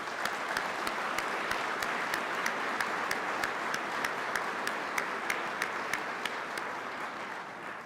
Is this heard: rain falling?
no